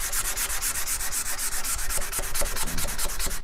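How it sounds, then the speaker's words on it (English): A turned wooden vase is sanded by hand in a steady, rapid back-and-forth rhythm of raspy scrubbing strokes, close and continuous with no voices. "a case of probably a fair bit of manual sanding"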